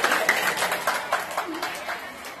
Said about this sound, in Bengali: তার জন্য একটা জোরে হাততালি।